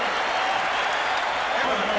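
Dense, steady roar of a large crowd cheering and applauding for Larry Bird winning the long-distance shootout at Chicago Stadium, a continuous loud wash of noise with no break.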